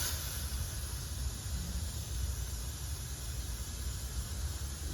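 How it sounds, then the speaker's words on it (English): Steady aerosol hiss of brake cleaner sprayed on a brake rotor continuously for several seconds, a broad even rush close by with no pauses. "I'm also going ahead and spray the rotor."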